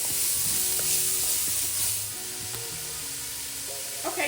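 Onion and garlic cook in a pan for a Zuppa Toscana soup base, a soft, even sizzle that eases slightly midway, with faint clinks and a low tonal hum underneath.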